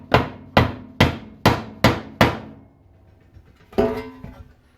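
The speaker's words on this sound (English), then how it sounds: "Nothing a little whacking can't fix." A hammer strikes a bent metal transmission pan from a 2005-2009 Kia Sorento six times in a quick, even rhythm, each a sharp ringing metallic bang. After a brief pause one more heavier clang follows.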